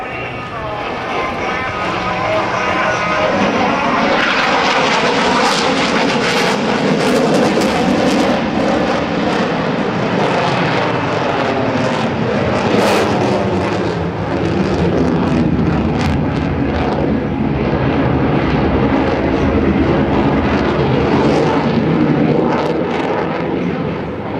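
An F/A-18C Hornet fighter jet performs a pitch rate demonstration at the 2010 NAS Oceana airshow, its loud, sustained engine roar filling the air with shifting tone as it maneuvers, while an announcer talks over it.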